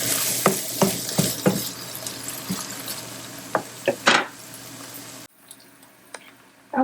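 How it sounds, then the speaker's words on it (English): Browned meat frying in a pan, cooked toward crispness, with a steady sizzle broken by several sharp scraping stirs and clatters of a utensil, then the sizzle drops away quieter near the end. "I'm going to cook it until it starts to almost get crispy in places"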